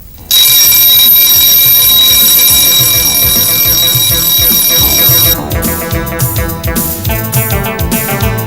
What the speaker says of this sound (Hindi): मैं रोज सुबह 5 बजे उठ जाता हूँ अलार्म लगाकर